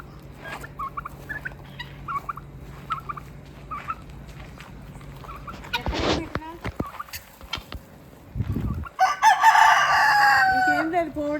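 Farm chickens and a rooster: quiet talk and scattered soft bird calls come first, then a rooster crows loudly and close near the end.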